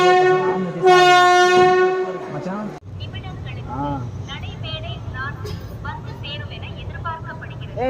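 A Chennai Egmore–Puducherry passenger train sounds a loud, sustained horn blast, then rumbles along with rhythmic wheel clatter while voices talk over the running noise.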